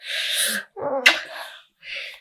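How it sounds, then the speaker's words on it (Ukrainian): A woman lets out a single sharp sneeze indoors, framed by a dog's high, breathy whimpering before and after, with no talking. "ніхто не постраждав, я просто чихнула"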